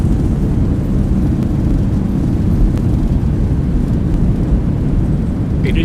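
Thrust reversers roar on a Boeing 737-800 just after landing in the X-Plane 11 flight simulator, a loud, dense, steady low rumble that holds unbroken throughout.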